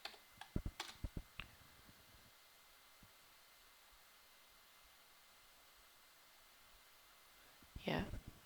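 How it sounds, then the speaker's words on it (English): Keys clatter on a computer keyboard as a command is typed, a quick cluster of sharp clicks at the start, then near silence and a brief burst of noise at the end; someone talks. "if we type in show tables"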